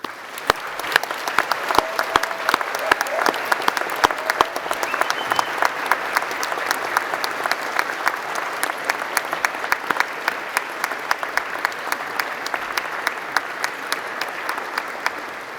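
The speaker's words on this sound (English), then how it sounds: "Let us give them the applause they so richly deserve." Audience at a graduation ceremony gives sustained, even applause, a thick steady wash of many hands clapping for the full stretch without pause or voices.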